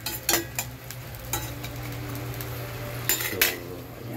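Garlic and onion sizzle in a pan as a utensil scrapes and clinks against the metal several times, the frying steady and close underneath.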